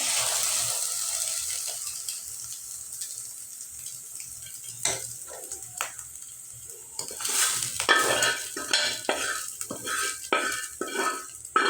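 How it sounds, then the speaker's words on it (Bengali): Cooked chicken meat being stir-fried into noodles in a pan, with a low sizzle under repeated scraping and clinking of a utensil against the pan, the strokes growing busier and louder toward the end. "এই মাংসগুলো সব নিয়ে নুডলসে ঢালে দেবো।"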